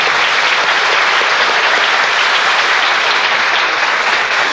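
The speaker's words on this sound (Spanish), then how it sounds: "Un aplauso para el artista." In Guadalajara, an audience bursts into loud, sustained applause for an artist after a painting is presented. The clapping is close, thick and even, with no voices over it.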